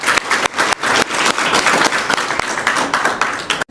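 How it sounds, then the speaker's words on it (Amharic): An audience at an event with street children at the Bora play centre breaks into loud, dense applause, many hands clapping steadily and close for a few seconds, with no speech over it. "ለቦራ ጭብጨባ"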